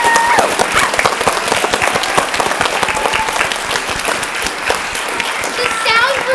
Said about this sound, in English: Ladies and gentlemen, please give a big round of applause for Clementine!